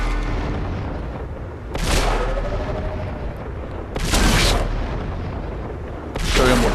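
The big gun of a Ferdinand (Elephant) tier VIII tank destroyer in World of Tanks fires three loud booming shots about two seconds apart, each rolling out over a low engine rumble.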